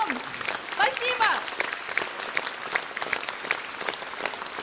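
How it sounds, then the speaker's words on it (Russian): A concert audience on a balcony and floor claps warmly at the close of a live festive concert, steady applause with a brief voice calling out near the start, then continuing even clapping. "Браво и аплодисменты вам!"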